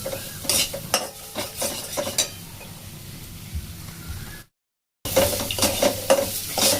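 Garlic and ginger sizzle steadily in a hot pan while a spoon stirs and scrapes through them in repeated strokes, the frying loud and close, with a brief full silence near the end before the sizzling and scraping resume.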